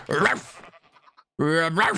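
Two wavering sheep bleats come from a Minecraft video game, loud and close, with a short quiet gap between them.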